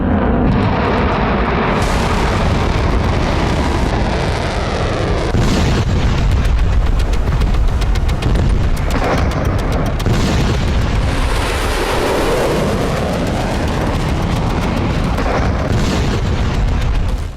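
Missile and bomb explosions from the Israel-Iran war, a continuous barrage of loud, deep booms and blasts rolling one into another for the whole stretch, with no voices.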